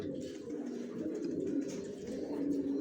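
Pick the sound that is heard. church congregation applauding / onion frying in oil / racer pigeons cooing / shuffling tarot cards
racer pigeons cooing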